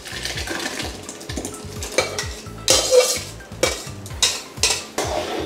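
A utensil scrapes and clinks in a pan, stirring a thick, reducing raw tomato puree mixture for tomato thokku in a rhythmic series of near, loud strokes with no speech.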